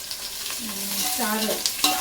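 Four large onions frying in hot oil for crab biryani, a soft continuous sizzle with a couple of light spatula scrapes near the end.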